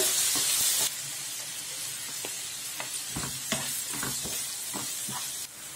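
Chopped ripe tomatoes and onions sizzle steadily in a hot pan for a spicy kara chutney, with repeated close spatula scrapes and knocks over a constant frying hiss.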